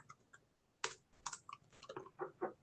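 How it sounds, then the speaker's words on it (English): Someone types on a keyboard during an online meeting, producing faint, irregular clicks and taps picked up from a distance, with no talking. "I hear typing."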